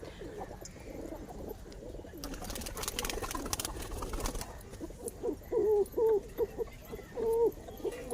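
Domestic racing pigeons coo softly in repeated low rolling calls, close by over a steady background hum, with a brief rustle of wings or movement partway through.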